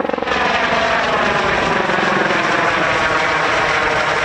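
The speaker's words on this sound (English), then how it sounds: "a helicopter flew overhead" A U.S. Customs and Border Patrol helicopter passes close overhead near Organ Pipe in the Arizona desert, its loud rotor throb and engine roar steady and dominant without any talk.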